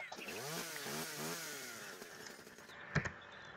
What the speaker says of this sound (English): Also, that's a giant chainsaw.